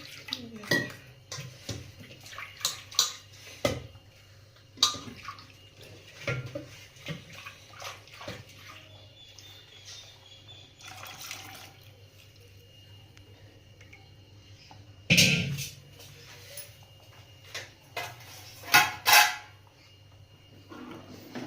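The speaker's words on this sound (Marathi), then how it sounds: "असं चमच्यानं घोटत राहायचं याला" A spoon scrapes and clinks against a pot while stirring thick wheat-flour batter for papad, in irregular bursts, with a few louder knocks and quiet stretches between strokes.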